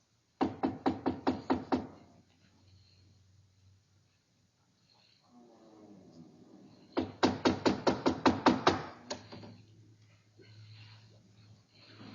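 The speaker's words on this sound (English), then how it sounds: "Here, door. We knock." Knocking on a door comes in two sharp bursts of rapid knuckle raps, about seven in the first set and ten in the second, close and distinct, with a faint low murmur of voices between them.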